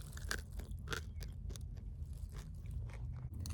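Close, crunchy chewing of instant mashed potatoes, with repeated bites and crunches in an uneven rhythm over a steady low hum like a parked vehicle.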